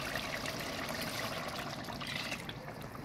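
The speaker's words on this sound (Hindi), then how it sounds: "अब हम इसमें 2 कप गर्म पानी डालेंगे" Two cups of hot water pour into a pan of chicken curry, a soft continuous trickling splash that stays fairly faint and even throughout, with no speech.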